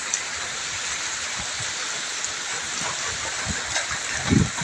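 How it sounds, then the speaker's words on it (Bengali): Heavy rain pours steadily over a green potato field, heard from shelter inside a shop, a dense continuous hiss with a few low thumps and splashes near the end. "দেখতে পাচ্ছেন কীভাবে বৃষ্টি হচ্ছে।"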